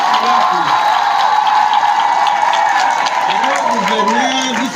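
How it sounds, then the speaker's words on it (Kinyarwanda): An audience at a welcome gathering in Minembwe keeps up loud, steady applause for a governor, with voices and cheers mixed into the clapping throughout. "Guverineri undi muri gukubita amashyi"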